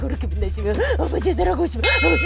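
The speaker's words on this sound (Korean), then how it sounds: "성 프란치스코가 악귀가 들린 숲을 지날 때 그 종을 치면서 지나갔다고 하더군요" Saint Francis's bell rings during an exorcism scene in a Korean film, with bright metallic clangs over a loud, continuous chanted prayer and a low rumbling score.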